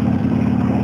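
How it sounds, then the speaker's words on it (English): A large RV rolls past on a rural road near Trout Lake, its steady engine drone and road rumble holding loud and close for under a second. "Oh, great big RV."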